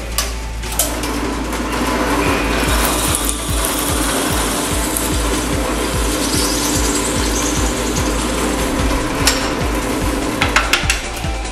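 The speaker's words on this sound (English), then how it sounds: "once our drill bit passes through the wood that we're intending to drill" A drill press whirs steadily through wood into a scrap piece below, with a low motor drone and rapid rhythmic ticking, occasional sharper clicks near the end, close and continuous.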